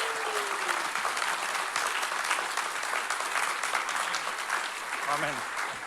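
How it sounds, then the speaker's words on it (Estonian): A congregation at a summer camp church service breaks into sustained, dense applause. The clapping stays steady throughout, with some voices and a faint whistle-like tone in the crowd. "Teeme veel suure aplausi."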